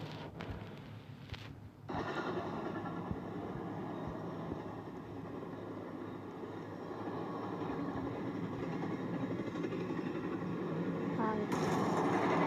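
A train in a Roblox game rolls along with a continuous rumbling, grinding roar that builds steadily in loudness, with a brief metallic clatter near the start.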